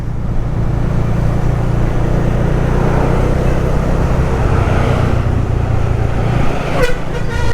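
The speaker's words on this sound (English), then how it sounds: "this is the Colombo traffic here in Colombo 2" Road traffic in Colombo 2, Sri Lanka, heard from a Bajaj Dominar motorcycle: a steady close engine and traffic rumble, with a horn tooting near the end.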